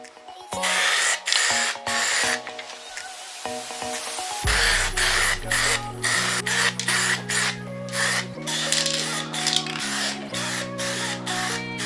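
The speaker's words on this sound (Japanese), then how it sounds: "ラッカーのように見えますけど2液のウレタンスプレーですじゃあ 塗っていきましょう" Silver metallic two-part urethane spray paint hisses from an aerosol can onto engine parts in bursts, with clicks and rattles between passes, then a steady hum with continuing spray.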